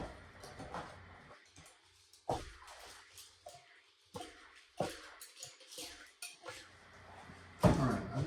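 A spatula scraping M&Ms off a gingerbread house: intermittent scraping and clinking scrapes, close and fairly faint, in irregular bursts separated by quiet pauses.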